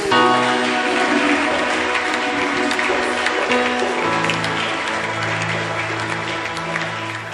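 A church congregation applauds in acclaim of the Lord, loud sustained clapping from a crowd that fills the whole stretch and fades slightly toward the end, with music or voices underneath.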